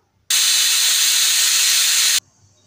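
A loud, steady burst of steam hissing from a pressure cooker whistle while cooking urad dal, lasting about two seconds before cutting off abruptly into near silence.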